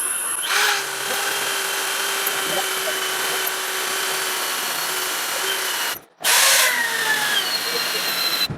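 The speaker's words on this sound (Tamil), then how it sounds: "இப்போ வுட்டில் ஹோல்ஸ் பண்ணி பார்க்கலாம்." A step drill bit bores holes up to 25 mm in wood, giving a steady, close power-drill whine. The drill stops briefly, then spins up again with a louder burst.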